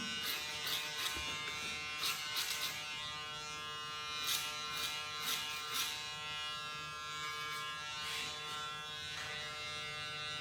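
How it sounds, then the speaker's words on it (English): Electric hair clippers buzzing close during a short men's fade haircut, a steady quiet hum with bright bursts of brief cutting strokes scattered throughout, no talk. "use the point of your clipper blade as like point cutting"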